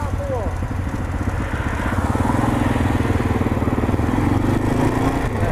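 A motorcycle engine revs and pulls away on a group ride through the countryside, a steady close mid-pitched drone that holds throughout, with voices over it.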